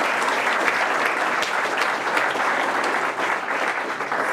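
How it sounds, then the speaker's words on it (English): Crowd at a Democratic party caucus in Burlington, Vermont giving a big round of applause, sustained, dense clapping at an even loudness with no talk. "so let's give them a big round of applause."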